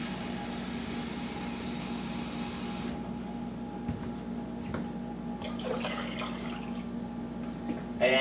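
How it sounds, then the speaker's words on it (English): Water is poured steadily into a pot as a continuous hissing, splashing stream. The tone shifts partway through as the pot fills, with a few small clinks near the end. "you're going to need to add 6 cups of water to the pot"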